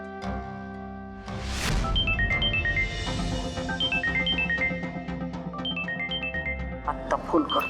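During an outgoing phone call, a melodic ringing tone plays in repeated rising and falling note patterns, moderately loud over a busy musical background.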